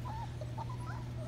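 Four-week-old dark sable German Shepherd working-line puppies whimper and whine in a run of short, high, wavering cries over a steady low hum.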